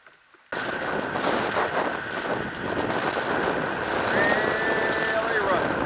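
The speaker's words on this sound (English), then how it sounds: "Cold and windy." Cold, rough wind blows across a jetty and roars into the microphone as a steady broadband rush that swells slightly toward the end, starting abruptly after a brief quiet moment.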